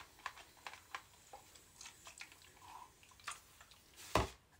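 Water spritzed and dripped onto a synthetic-fiber wig, soft scattered taps and drips up close, ending in a short louder burst of spraying.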